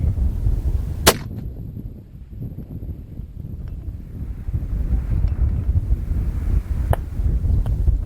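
Rifle shots during extreme long range shooting outdoors, one sharp crack and a second fainter report a few seconds later, heard over steady loud wind buffeting the microphone.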